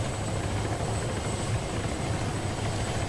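Helicopter in the military video game ArmA, a steady loud rotor and engine drone filling the scene continuously and close, with no talk.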